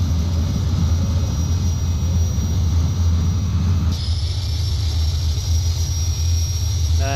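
Engine of a Cessna 206 floatplane under added throttle in flight, a loud steady drone with a constant low roar and high whine throughout, shifting slightly partway as power changes, with no voices.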